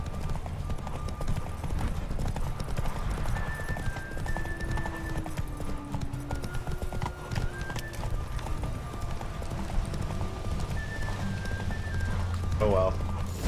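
Hooves clip-clop in quick rhythm as a horse gallops in The Witcher 3, with occasional whinnies and game music tones, while a player talks over the action.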